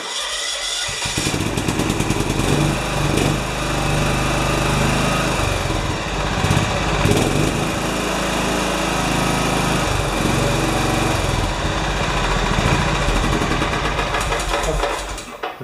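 A John Deere 180 lawn tractor engine, just after an exhaust valve adjustment, runs loud and steady nearby with a constant buzzing drone and slight fluctuations in pitch, with no voices over it.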